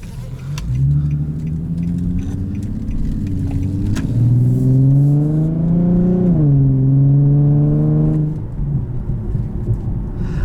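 A 2014 Infiniti Q60 with its factory exhaust revs hard in a loud, close run, pitch rising in steps through the middle before settling back toward idle, with a deep rumble underneath throughout.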